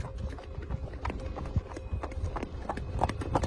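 Hooves clip-clop in an uneven rhythm over a low outdoor rumble as several horses walk by, moderately close.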